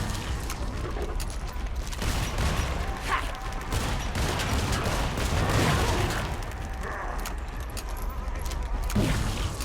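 HRG buckshot shotgun fire in Killing Floor 2 comes as repeated close blasts mixed with clattering game action and creature noise, a dense, busy barrage throughout.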